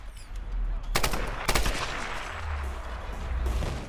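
Gunfire in Tomb Raider Definitive Edition during a fight at the Solarii Fortress, with dense bursts of rapid shots clustered around the middle, loud and close, over a continuous low rumble of game ambience.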